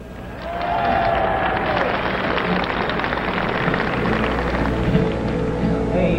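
A concert audience greets the performer with steady, dense applause and some cheering that swells in and holds loud and full throughout, with no talk over it.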